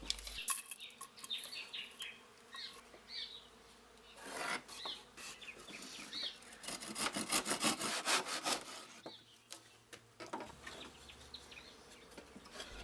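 Hand sawing through offcuts of pallet wood while building a workbench frame, rough rasping strokes that come in uneven bursts and grow louder and faster toward the middle, close and unaccompanied by talk.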